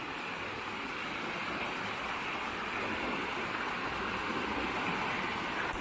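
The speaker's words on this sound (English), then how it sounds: "Listen to the river flowing." The River Derwent flows on a rainy day, a steady broadband rush of running water that stays even and close throughout, with no voices.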